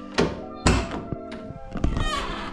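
A Mazda RX-7 FD's car door is slammed shut twice, each a heavy close thunk with metallic rattle, followed by a couple of lighter knocks and clatter.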